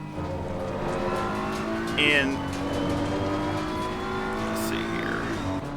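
Race car engine droning steadily through laps in the racing game Assetto Corsa Competizione, with a brief tire squeal or shift blip midway; someone talks briefly over the continuous engine note.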